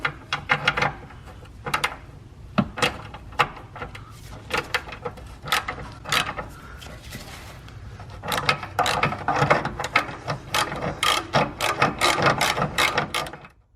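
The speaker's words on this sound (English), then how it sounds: "So these are nut and bolts also, so you have to put a wrench up on the inside there." A hand wrench ratchets on the nuts and bolts of a car muffler, sounding as short bursts of quick metallic clicking that start and stop irregularly, fairly close and alone.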